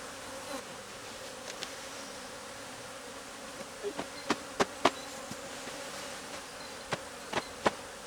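Aggressive honeybees swarming at a beehive, a continuous close buzzing drone with individual bees zipping loudly past in brief bursts, no talking.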